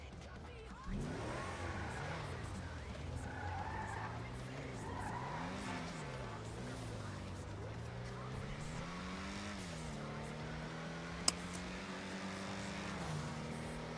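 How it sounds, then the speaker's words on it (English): A turbocharged car in GTA V roleplay, its only upgrade the turbo, revs and shifts with a low engine drone rising and falling through the gears, faint turbo whine and tire noise over it. "I just like the turbo noises"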